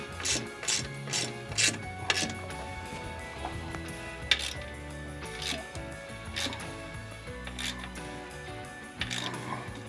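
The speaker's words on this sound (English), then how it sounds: "So get on the back side with a ratchet and socket." A hand ratchet and socket tighten the bracket nut on a Trask 2-into-1 exhaust fitted to a 2025-or-later Harley-Davidson Softail, with rapid clicking pawl strokes in repeated bursts and metallic knocks, close and clear with no talk.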